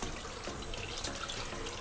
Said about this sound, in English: as you can see, we've got water flowing